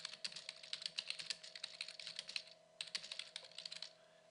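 Fingers tap out teacher feedback on a computer keyboard in a quick, steady clatter of close keystrokes, pausing briefly midway before resuming and trailing off.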